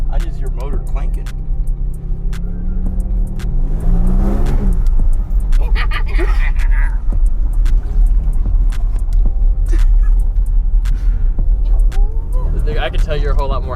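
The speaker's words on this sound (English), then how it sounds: "I just hear motor clanking" An Infiniti G35 engine idles and runs with a rough rumble and scattered metallic clanks and knocks, while people talk nearby over it.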